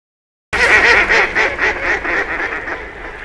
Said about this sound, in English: It then sets its sights on ducks near the shore.